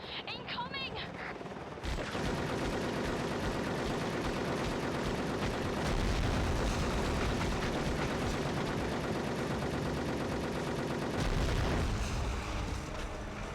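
Machine gun fire in the PS2 shooter Cold Winter, with a helicopter attack underway, rattling loud and dense for most of the stretch, layered with battle noise and game music.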